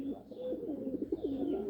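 Pigeons cooing close by, a low rolling warble that swells and pulses in a repeated throaty phrase, steady and clear over quiet surroundings.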